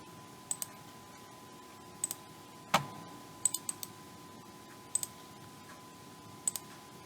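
Sparse, faint key taps on a computer keyboard while a URL is typed, spaced out in small pairs and clusters against a quiet background, with one sharper louder click midway.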